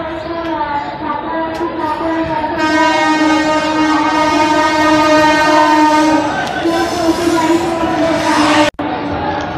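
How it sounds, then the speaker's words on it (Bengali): Vivek Express pulling into Santragachi railway station in Howrah, a loud, close train horn sounding long and sustained over the heavy rumble of the arriving carriages, cut off briefly near the end. "বিবেক এক্সপ্রেস ঢুকলো"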